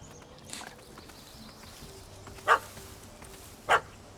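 Two short, sharp dog barks from a puppy in The Witcher 3 ring out about a second apart, fairly close, over a quiet ambient game background with no talk.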